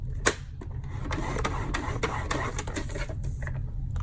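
A paper trimmer's scoring blade is drawn across paper in short scraping, rubbing strokes, with a sharp click near the start, close up over a steady low hum and no talking.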